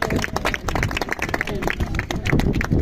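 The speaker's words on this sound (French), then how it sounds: "On applaudit le Seigneur béni." A crowd claps in praise at an open-air evangelical street gathering in central Paris, with dense, uneven hand claps throughout and voices mixed in under them.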